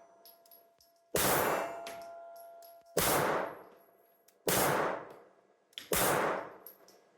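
A Czech vz.50 pistol in fair condition firing surplus ammunition: four sharp, loud shots roughly 1.5 seconds apart, each with a ringing decay, with no talking.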